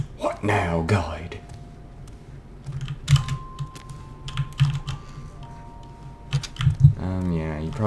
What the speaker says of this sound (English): you probably can hear my keyboard and stuff